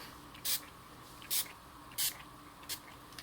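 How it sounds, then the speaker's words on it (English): Four short, sharp hisses from a spray bottle of ink, evenly spaced over a faint background hum, close up. "shake up our sprays so we can make sure that we get some good, even, nice spray"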